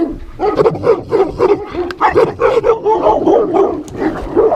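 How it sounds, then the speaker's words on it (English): A Great Pyrenees guard dog at an alpaca ranch barks repeatedly in quick, close, loud bursts, some yelping and whiny, a steady string of barks with no talking. "he's acting as a guard dog to protect the alpacas"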